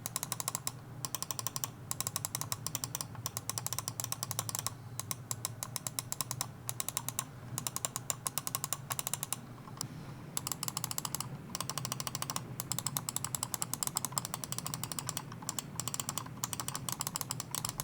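Pwnage Symm 2 gaming mouse buttons clicking in a sound test, a rapid, uneven stream of crisp close clicks with short pauses between bursts, fairly quiet and with no talking.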